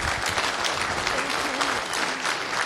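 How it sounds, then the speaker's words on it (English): Audience applauding after the first talk at a software conference, a steady dense clapping that fills the room with no voices over it. "a round of applause for the first talk"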